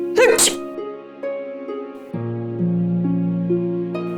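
A single sharp, loud sneeze from a woman indoors in a drama scene, followed by sustained background music.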